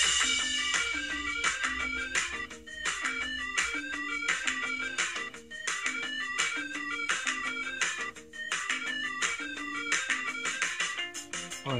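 A phone ringtone blares loudly from the speaker of an HC10 handset, a busy electronic melody with repeating rhythmic notes and beats that plays continuously and alone.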